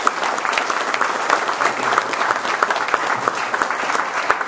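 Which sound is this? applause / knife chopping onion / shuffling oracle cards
applause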